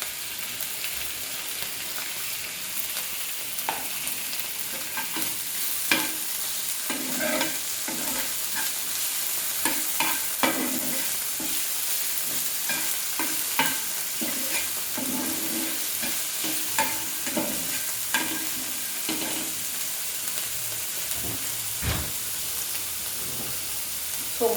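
Tomato and softened capsicum sizzle steadily in a hot pan, a continuous frying hiss broken by occasional clacks and scrapes of stirring.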